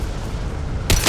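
A sudden loud burst of gunfire in Mass Effect 2 cuts in near the end of a low, rumbling combat ambience, close and heavy.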